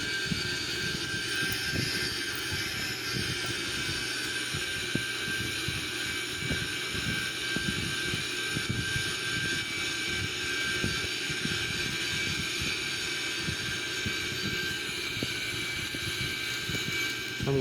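Airbus A340 engines hum in a flight simulator during an IFR flight, a steady continuous drone with faint ticking clicks, moderately loud and unbroken throughout.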